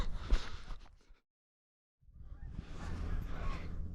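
Geese honk in a noisy flock during a goose hunt in Montana, fading into a brief silence before the honking and rustle of many birds swell again.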